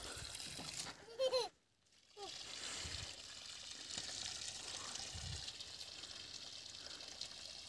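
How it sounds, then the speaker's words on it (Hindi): Water drains out of a farm water trolley as a soft, steady rushing hiss that continues almost throughout, faint and distant-sounding, with a short burst of speech near the start. "पानी खाली हो रहा है"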